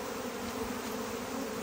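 A package of honey bees being shaken out near a top bar hive entrance makes a dense, steady buzzing swarm hum, close and continuous with no voices.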